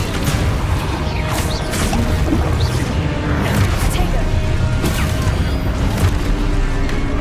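Spell blasts and explosive impacts from the wizarding action game Hogwarts Legacy, a dense, continuous barrage of booms, crashes and whooshes at steady high loudness, with a voice calling out spell incantations over the combat.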